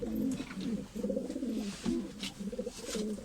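Adana pigeons (batarlı breed) coo in low, rolling bursts, several overlapping calls repeating close by with short pauses between them.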